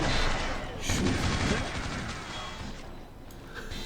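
Video game gunshots fire in a loud burst at the start and again around the middle, with heavy booming shots that fade into a quieter rumbling tail.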